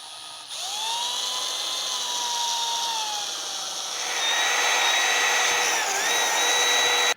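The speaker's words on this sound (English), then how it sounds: "we can set it down on a table and just drill through those" A power drill boring holes through a Toyota Tacoma fender guard mud flap laid on a table, a steady high-pitched whine running continuously for several seconds, shifting pitch slightly as the bit cuts through, then stopping abruptly.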